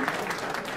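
Chartered accountants in a lecture audience applaud, a short burst of blended clapping that sounds dense, fairly far off and muffled, with no individual claps standing out.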